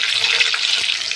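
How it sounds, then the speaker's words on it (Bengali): Potatoes frying in hot oil in a pan for a Bengali chicken curry, giving a steady bright hiss and sizzle with no talking. "আমি আলুগুলো ভেজে নেব।"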